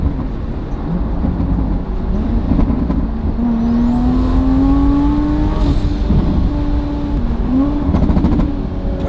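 A Mazda RX-7 engine drones loudly from inside the cabin with exhaust valves open, a rising whine and occasional crackling pops from the exhaust, steady throughout.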